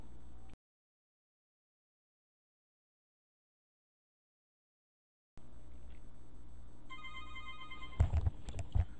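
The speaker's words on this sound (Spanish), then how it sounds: "Celular, gente." A mobile phone rings, a repeating electronic ringtone entering after a long stretch of silence and continuing with a few louder knocks toward the end.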